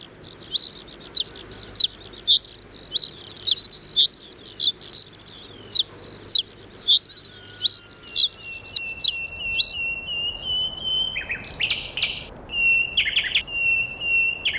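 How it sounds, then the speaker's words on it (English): A reed bunting repeats a simple territorial song, short high chirping phrases at a steady rhythm, fairly close and clear over a soft insect or cricket background, with a few sharper calls toward the end. "The reed bunting's simple tune conveys a similar message."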